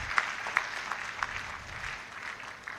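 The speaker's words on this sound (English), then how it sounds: "A better round of applause for Dr. Pra" Applause from an audience after a campus orientation talk, a soft ongoing patter of clapping with a few sharper claps near the start.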